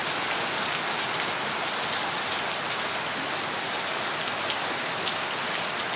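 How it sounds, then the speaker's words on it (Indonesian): Heavy midday rain pours steadily and loudly, a dense unbroken wash of drops on surfaces that fills the whole stretch with no talk over it. "Suasana hujan di tengah hari."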